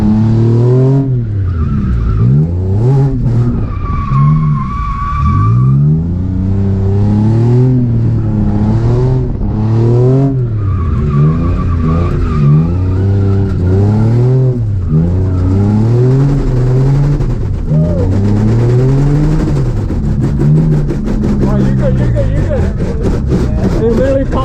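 A car drifting with repeated rising and falling engine revs and tire squeal, loud and continuous over several passes, with voices mixed in.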